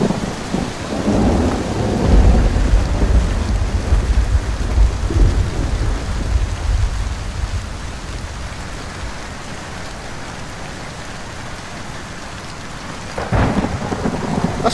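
Heavy rain pouring through a thunderstorm in the video game Skyrim, with loud rumbling thunder in the first seconds and another crack near the end, the steady downpour continuing throughout without speech.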